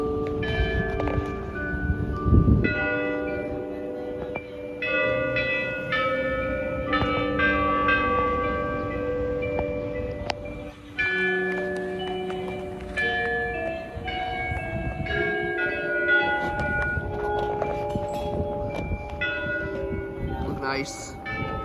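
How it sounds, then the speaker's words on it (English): Church bells at St Mark's Catholic Church, Brooklyn, ring a short Westminster first-quarter chime, clear, resonant notes overlapping and sustaining, with a steady background rumble beneath. "That's a short Westminster chime at the first quarter."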